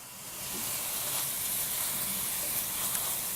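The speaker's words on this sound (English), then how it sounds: "We're starting to saute really well." Sausage sautéing in a pan, giving a steady, even sizzle and hiss that holds at a constant level throughout, with no voices.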